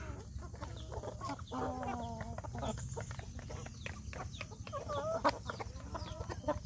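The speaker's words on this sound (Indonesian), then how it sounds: "Nah ini yang seperti ayam alas nih sedulur, nih seperti ayam alas." Free-range village chickens of a jungle-fowl-like breed cluck and call repeatedly in a steady, overlapping chorus at moderate distance, with a low background hum beneath.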